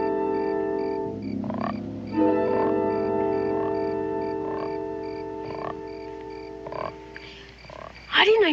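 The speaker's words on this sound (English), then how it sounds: "I didn't know you had a frog." A frog croaks repeatedly at roughly one-second intervals, close by and fairly loud, over a steady sustained background tone.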